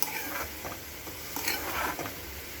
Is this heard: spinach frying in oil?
yes